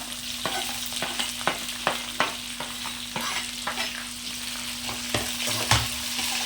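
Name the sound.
sliced onions frying and being stirred in a pan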